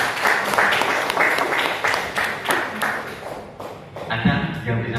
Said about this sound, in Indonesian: Bila kita beri tepuk tangan untuk kita semuanya.